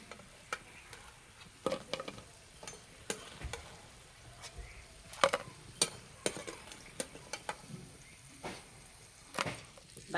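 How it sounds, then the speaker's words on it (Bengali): Sesame-paste rolls fry in hot oil, with a soft sizzle under scattered sharp ticks and clicks from stirring or turning, faint and close, and no speech. "বাকিগুলো একই রকম ভাবে ভেজে নেব।"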